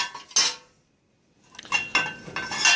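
Small enameled cast iron pans clink and clatter against each other as they are handled. Bright metallic knocks come in a burst, then a pause, then several more close clanks.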